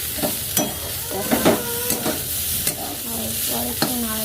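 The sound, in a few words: stirring food frying in a pan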